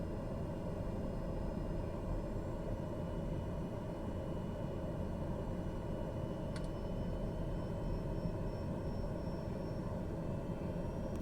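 A steady turboprop engine drone from a TBM930 taxiing in Microsoft Flight Simulator, constant and loud throughout with a brief click partway, no talking.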